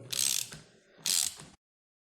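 Two quick bursts of ratchet clicking as a ratchet tightens a crankshaft puller on a motorcycle, each rapid clatter of pawl clicks lasting about half a second, close and clear, followed by silence.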